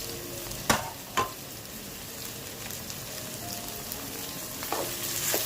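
Chopped onions frying in oil in a pan for an ivy gourd fry, a steady soft sizzle with a couple of sharp clatters of a spoon against the pan, the hiss swelling slightly toward the end.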